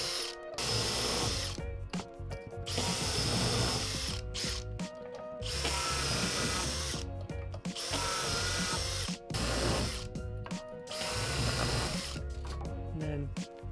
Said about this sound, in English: And then I'm going to drill our holes.